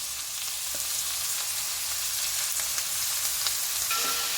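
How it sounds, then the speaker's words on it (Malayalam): Onions sautéing in a pan for chicken curry, a continuous close bright sizzle with occasional stirring scrapes. "ഇനി സവാളയും ഒന്ന് നന്നായിട്ട് വഴന്ന് വരണം"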